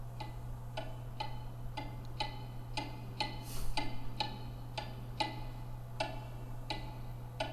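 Many clocks ticking in the video game Alice: Madness Returns, a steady overlapping tick-tock, about two ticks per second, over a constant low hum.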